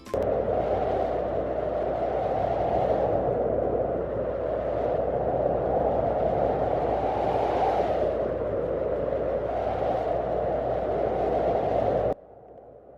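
Steady wind blows in a continuous rushing roar, swelling and easing in slow gusts before cutting off near the end.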